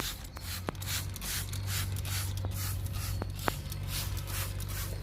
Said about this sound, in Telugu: ఇలా మొక్కంతా స్ప్రే చేసుకోవాలి.